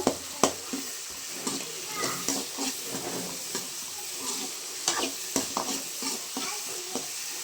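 Turmeric fries in oil with tomatoes while a spoon stirs the pan, a soft steady sizzle punctuated by irregular sharp scrapes and taps at close range.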